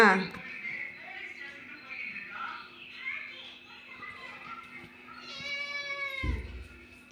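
A house cat meows several times close by, ending in a long drawn-out meow, while someone talks and children's voices sound in the background.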